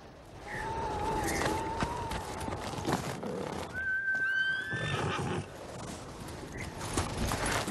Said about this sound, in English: Hey, now we got horses.